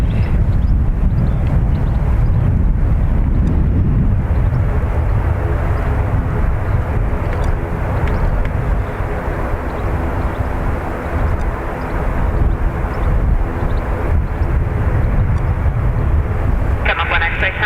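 A plane takes off from runway 28 right at Dublin Airport. Its engines roar loud and close as a broad, sustained rumble for the whole stretch, with a voice talking over it.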